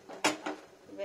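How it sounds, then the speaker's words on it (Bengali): A lid lifted off a cooking pot with a plate stuck to it gives two quick metallic clatters close by, a sharp first clank and a softer second knock within a second. "দেখুন প্লিজ ঢাকাটা খুলি। আরে এই থালাটা এটার সঙ্গে সেটে গেল"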